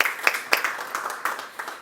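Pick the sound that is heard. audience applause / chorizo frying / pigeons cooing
audience applause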